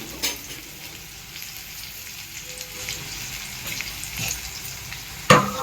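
Poppy seed paste fries in a pan with a soft, steady sizzle, stirred now and then, ending in a sharper scrape or clatter.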